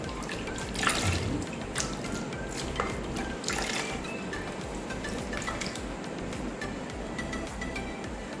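Water dripping and trickling from a 5x5 human hair closure lifted out of conditioner water, with splashy patters and small drips over a soft, continuous wet background, close by.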